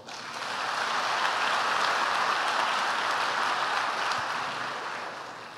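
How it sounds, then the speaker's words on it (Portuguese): A church congregation applauds at an evening celebration service, the clapping swelling in quickly, holding steady and full, then tapering slightly at the end, with no talk over it. "Dê um aplauso ao Senhor"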